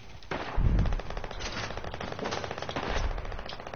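Rapid automatic gunfire from the Fortnite video game, a dense burst of repeated shots with a heavier thump near the start, continuing steadily and fairly loud throughout.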